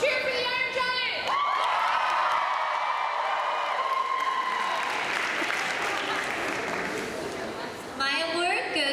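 A convention crowd at a cosplay contest awards ceremony bursts into loud, sustained applause and cheering with whoops, holding for several seconds before a voice comes back in at the end.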